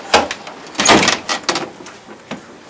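Doors opening into the infant room of a children's centre, a run of close, loud rattling clacks and scrapes of the door and its hardware in irregular bursts.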